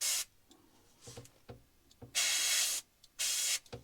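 An old Hornby model railway coach is spray painted in short bursts of airbrush-like hiss, several close separate sprays of varying length with quiet handling clicks between them.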